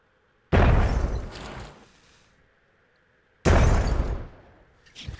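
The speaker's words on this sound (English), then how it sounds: "Then you can kind of just launch a grenade." A grenade is launched and explodes in Myth: The Fallen Lords: two sharp, loud blasts about three seconds apart, each decaying with a rumbling tail, and a smaller pop at the very end.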